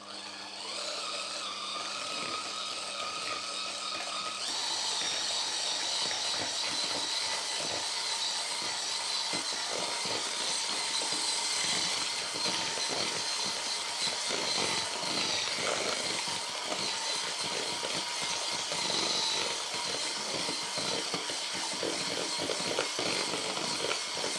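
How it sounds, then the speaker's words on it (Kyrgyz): Steady, loud electric mixer whir blending cream cheese and butter for a cake, continuous motor drone with rattling texture running throughout without pause, no speech. "Мынакей ошо крем-чизди салып, эми масло менен дагы аралаштыра алабыз"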